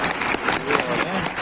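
A short, loud burst of applause from a class audience welcoming Sir Imran, dense clapping throughout with no speech on top.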